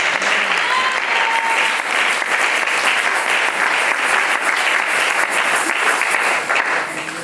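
A church congregation at a French-language worship service breaks into loud, sustained applause, dense rapid clapping that stays strong and steady before easing slightly at the end.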